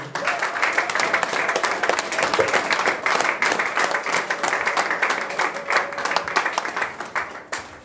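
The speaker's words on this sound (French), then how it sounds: "Merci, applaudissons le Seigneur." A church congregation applauds the Lord during an Ascension service, dense sustained clapping from many hands filling the room, steady and loud throughout with faint voices mixed in.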